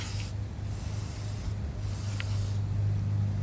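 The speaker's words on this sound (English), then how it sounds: "I'm going to spray this off." A brief hissing burst of aerosol cleaner spray on an old Murray lawnmower, over a steady low hum, with a couple of short faint spritzes around it.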